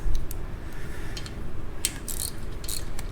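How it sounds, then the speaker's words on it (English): Bolts being run in by hand on a Harley-Davidson Twin Cam rocker box during a gasket replacement, a close, steady metallic ratcheting texture with a few sharper clicks toward the end. "and then you get the bolts started to hold it there"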